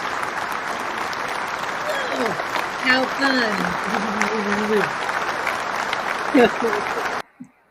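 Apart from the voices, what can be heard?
audience applause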